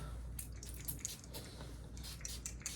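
Body mist is sprayed after a shower in a quiet room: several short, faint hissing bursts spaced irregularly, with no talking.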